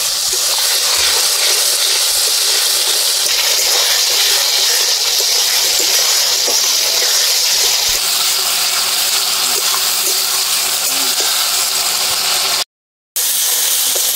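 Spiced paste for a chicken curry with elephant foot yam cooks with a little water in a pan, a loud, steady broadband hiss and sputter lasting throughout, with a brief break near the end.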